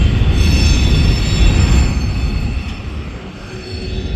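Train wheels roll along the rails with a loud, close, sustained grinding rumble and high metallic squeal that eases slightly toward the end.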